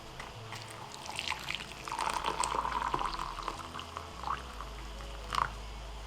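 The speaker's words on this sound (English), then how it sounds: "I'm just making regular tea by adding hot water to the baggie." Hot water poured into a plastic baggie to make tea, a soft trickling, bubbling fill that swells in the middle and fades, with a low hum underneath.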